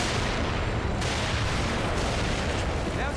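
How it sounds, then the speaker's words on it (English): Several grenades going off in The Evil Within, a heavy, continuous barrage of booming blasts and rumble filling the whole stretch at steady loudness, with a sharper burst about a second in. "So we're just gonna yeet 3 of these grenades here"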